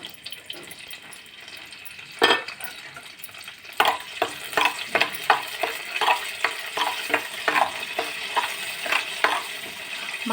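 Cumin, mustard seeds and curry leaves hit hot oil in a clay pot for a small fish curry, starting with a low hiss, then a run of irregular sharp crackles and pops over a sizzle, close up and without speech.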